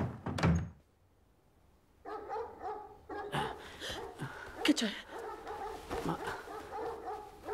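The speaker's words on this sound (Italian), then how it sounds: "Non ho mai sentito i cani così nervosi." Dogs bark and whimper nervously, a loud close bark at the start, then a quiet pause and a stretch of restless canine sounds mixed with people talking and a thump.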